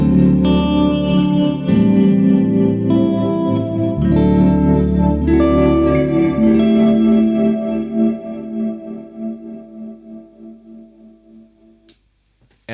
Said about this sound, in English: The sine wave is a bit more smooth.